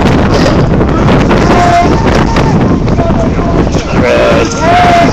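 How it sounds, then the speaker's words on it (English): Strong outdoor wind buffets the microphone near a tunnel building, a loud, continuous roaring rumble that fills the whole clip with no clear talk over it. "The wind causes all kinds of hell around here."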